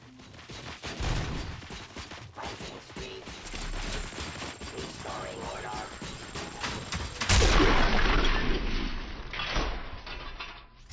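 Gunfire and explosions from the game RoboCop: Rogue City, a steady loud barrage of rapid shots and blasts across the whole stretch, with a bigger burst near the end.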